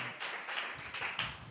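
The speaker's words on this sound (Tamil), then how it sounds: "நல்ல தலைக்கு மேல கூட கைத்தட்டி தேவனை மகிமைப்படுத்துங்களேன்." A church congregation claps hands overhead during worship, giving a quick string of soft, fairly distant claps in an uneven rhythm against a light room hiss.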